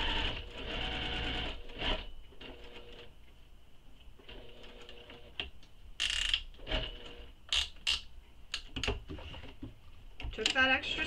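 A sewing machine stitches a crossbody bag in short whirring bursts separated by pauses, with clicks and handling noises between runs, up close under a quietly speaking voice.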